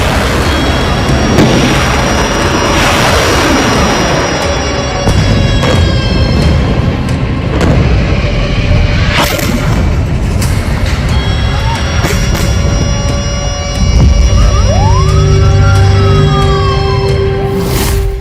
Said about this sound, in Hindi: रॉकेट हमले।